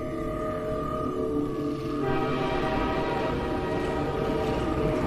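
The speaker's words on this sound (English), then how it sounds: "Hey, we're on a train." Train ride in the Half-Life 2 video game: a steady low rumble of rolling rail cars with tonal hum, continuous and fairly loud with no talk.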